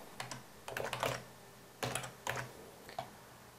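Typing on a computer keyboard while entering text in Photoshop: several short bursts of crisp key clicks separated by pauses, close and fairly quiet in a quiet room.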